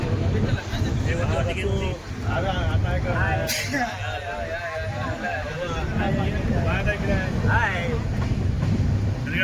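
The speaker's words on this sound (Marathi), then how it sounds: "ट्रेन फुल सुसाट आहे एकदम" Passenger train in motion, a long-distance coach service out of Kurla LTT, its steady rumble and rattling wheels filling the carriage while several people chat loudly over it throughout.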